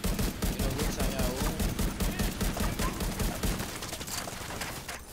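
Rapid bursts of gunfire from the video game The Division 2 crackle loudly and nearly continuously, with dense repeated shots forming a sustained fusillade that eases slightly toward the end.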